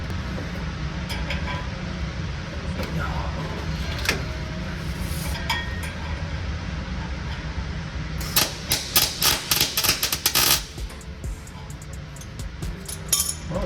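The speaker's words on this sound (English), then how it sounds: "just weld it up real quick" Welding a hanger onto a Cummins truck, with a quiet steady background before a loud burst of rapid crackling, sputtering welding arcs near the end, mixed with some clinks.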